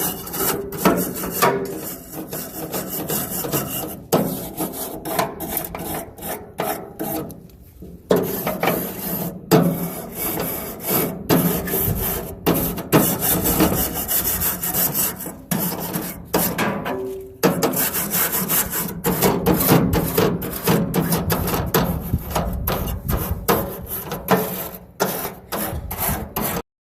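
A stainless steel bristle brush scrubs an old enclosed outdoor grill in fast, repeated rasping strokes, close and loud, with a few brief pauses between bursts of scraping.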